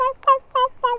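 A simple plain yelp of a turkey hen, imitated by a hunter: four short, raspy, two-toned notes in quick, even succession, close and clear against a quiet background.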